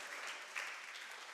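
A radio studio audience at a national reading competition applauds briefly, a soft, steady wash of clapping at modest volume with a small swell midway.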